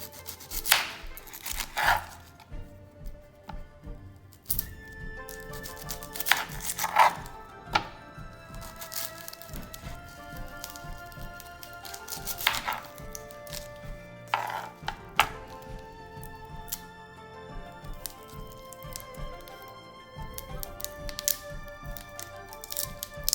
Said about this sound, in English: Okay, so first we're going to cut the onions.